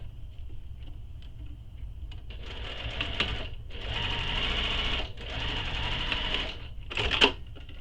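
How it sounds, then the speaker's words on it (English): Sewing machine running a single row of stitching along a bag's edge, whirring in several bursts of steady rapid stitching separated by short pauses, close and clear. "I'm just going to stick with 1 row of stitching all the way down the edge"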